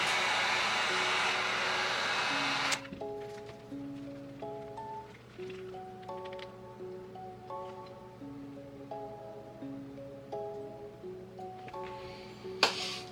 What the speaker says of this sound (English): Let's hit the whole thing with a little heat over again.